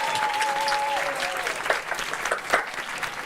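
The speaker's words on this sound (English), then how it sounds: "Other champions are cheering Joshua on." At the Starbucks EMEA Barista Championships final, fellow champions applaud and cheer in a dense, steady wash of clapping, with a voice speaking and a few louder claps standing out near the end.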